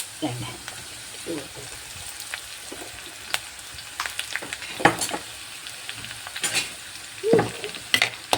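Curry leaves sizzling in oil with garlic and ginger for a fish curry, a soft continuous sizzle broken by clinks and spatters from stirring, with a voice talking over it at times.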